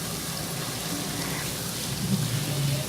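Mashed potato puffs fry in hot oil until light golden, making a dense, steady sizzle and crackle throughout, close and fairly loud.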